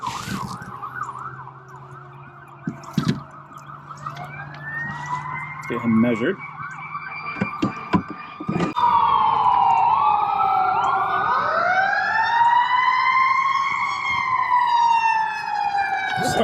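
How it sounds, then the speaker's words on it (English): Several fire truck sirens wail and sweep past one after another near a lake during kayak bass fishing, growing louder and overlapping in the second half, with a voice speaking briefly and knocking sounds nearby. "Must be a big fire, man. There've been a lot of trucks going by."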